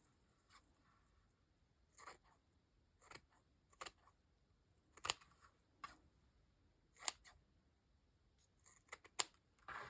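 Scissors snip through fabric in short, separate cuts spread across the span, some brief and some in quick pairs, close and fairly quiet with no talking.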